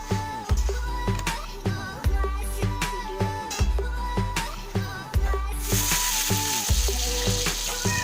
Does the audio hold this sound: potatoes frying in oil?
yes